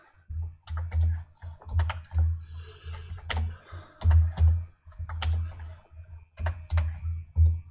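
Typing of HTML heading tags on a computer keyboard: close, irregular bursts of key clicks with short pauses between runs, no talking.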